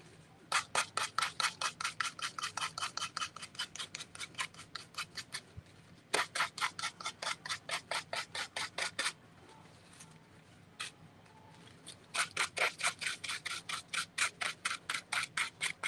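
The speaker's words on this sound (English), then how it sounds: "I'm going to take my sander and sand off the excess" A hand sander rasps excess material off the edge of a boot being remade into an elf shoe, in fast rhythmic bursts of scraping strokes, close and loud, with short pauses between runs.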